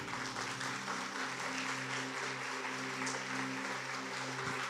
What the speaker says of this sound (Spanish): Si quieres darle un fuerte aplauso, dáselo al Señor.